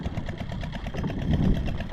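A motor runs steadily up close with a rapid, even chugging pulse, its low rumble swelling slightly toward the end.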